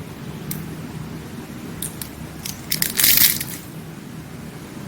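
Crispy fried ribbon pakoda snapped by hand to test crunch, giving brief crackling breaks that build to a louder cluster of crunches near the end, close up with no talk over a low background hum.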